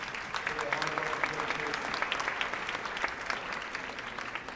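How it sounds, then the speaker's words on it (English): Audience at a high school senior merit assembly claps steadily, a dense, even patter of many hands filling the hall, moderately loud and sustained throughout. "Please give them a round of applause for their hard work"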